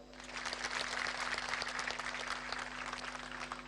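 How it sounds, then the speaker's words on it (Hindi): An audience claps together at a Patanjali gathering in Patal Ganga, Maharashtra, a dense, steady burst of many hands that holds for several seconds and eases slightly at the end, with no talking. "उनके लिए एक बार ताली बजाओ"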